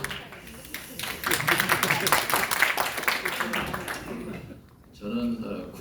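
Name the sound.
audience applause at a forum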